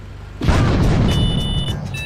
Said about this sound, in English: I'm gonna throw my grenade here.